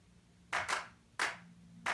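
Drum machine clap samples in a music mix being mixed: crisp, punchy claps hit in a quick double followed by single strikes, loud and dry over a faint low background.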